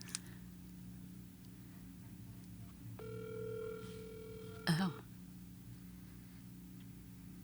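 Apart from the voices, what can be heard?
telephone ringing on an outgoing call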